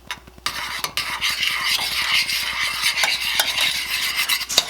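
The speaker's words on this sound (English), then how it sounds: "I'm going to whisk that in here when we get it nice and smooth." A whisk beating cream cheese into melted strawberry jam in a pan, with rapid rhythmic clicking strokes and wet swishing, close and continuous.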